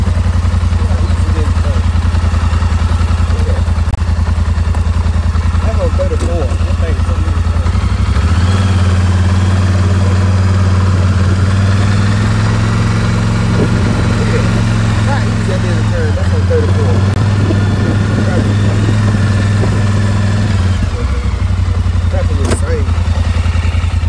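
A 2021 Polaris Sportsman XP1000 HighLifter ATV on 34-inch Cryptid tires runs with a steady low engine drone that rises and shifts as it drives off, loud and close, with a voice talking over it at times.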